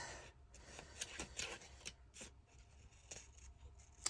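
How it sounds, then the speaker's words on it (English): Big scissors cutting paper for a rubber stamp collage: a series of close, crisp snips and rustling paper, irregular and fairly quiet, with no talking. "I'm gonna use my big scissors"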